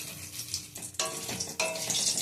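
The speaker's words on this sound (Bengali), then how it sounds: "বেগুন ভেজে নিচ্ছি" Brinjal slices sizzle in a hot pan in a home kitchen. Short bursts of frying crackle rise and fall as the pieces are stirred or turned.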